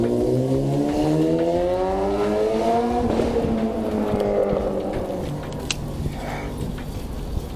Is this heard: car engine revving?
yes